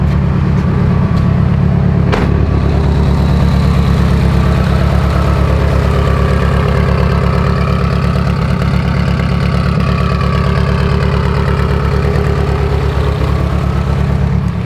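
A Mitsubishi Evo engine in need of a tune idles at a gas station, running slightly rough. The steady, loud, close engine rumble runs unbroken, with no talk over it.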